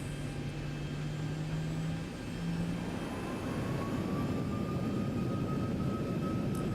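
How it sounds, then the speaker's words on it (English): Boeing 737 jet engines in the X-Plane flight simulator give a steady, loud broadband roar with a low hum and thin rising whine tones, continuous throughout, no talking. "Those engines sound absolutely great"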